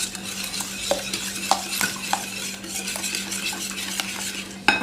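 A utensil stirs eggs, sugar and oil together in a bowl for cake batter, a continuous wet swishing with regular light clicks of the spoon against the bowl.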